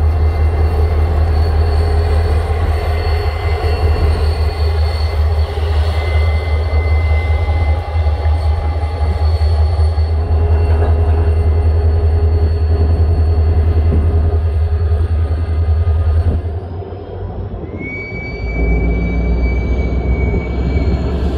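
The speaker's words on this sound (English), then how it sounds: "SD40-2 3218, formerly of Southern descent, went back to port lock with their 2 remaining flats and the N&W decal caboose" Norfolk Southern SD40-2 diesel locomotive, ex-Southern unit, rolling on former N&W track with two flatcars and an N&W caboose: a loud, steady low engine drone with rail rumble that dips briefly near the end, then a rising high whine.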